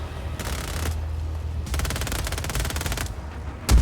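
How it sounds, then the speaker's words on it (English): Enemy machine-gun fire in Just Cause 4, rapid bursts of shots coming in two main volleys with a brief pause, ending in a heavy thump. "They're shooting at me."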